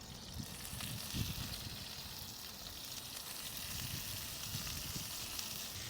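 Onions and peppers sizzle on a hot griddle over a Big Green Egg outdoors, a steady close crackling hiss with occasional louder pops and no talking.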